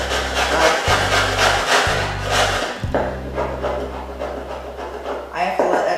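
An ordinary chisel scrapes old scenery material off a model railway road surface, giving rough, repeated rasping strokes up close, with a steady low hum running underneath.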